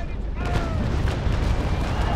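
Ship cannon fire in the naval battle game Naval Action booms loud and close, a dense rumbling barrage of overlapping blasts that fills the short moment.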